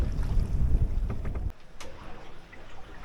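Offshore wind buffets a small sailboat 50 miles out at sea in fog, a loud rumbling gust that drops suddenly midway to a softer rushing hiss with water splashes.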